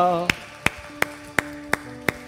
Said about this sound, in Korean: 우리 교회를 일어나게 하실 하나님께 영광의 박수 올려드립니다.